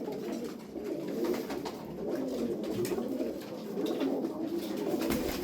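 Tumbler pigeons coo steadily in a dense chorus, low throaty murmuring layered over rustling and scattered clicks, close and continuous.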